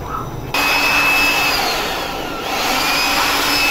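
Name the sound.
vacuuming dust out of a computer system unit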